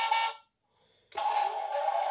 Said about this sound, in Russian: Потом есть клаксон.